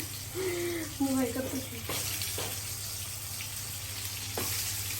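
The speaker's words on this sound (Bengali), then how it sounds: "এখন এই যে বেগুন ভেজে নিব" Eggplant frying in oil, a steady close sizzle with a few clicks of utensils, while a voice briefly speaks near the start.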